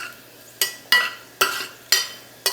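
Shallots frying in hot ghee, lifted out with a slotted spoon: five sharp scrapes and clinks of the spoon against the pan, evenly spaced, over a quiet steady sizzle.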